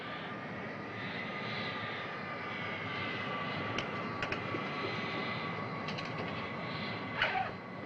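A fixed-wing airplane's engines roar steadily at takeoff, a dense continuous drone heard from inside the cabin, with a few faint clicks and knocks over it.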